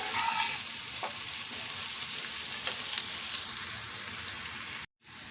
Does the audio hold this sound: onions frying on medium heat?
yes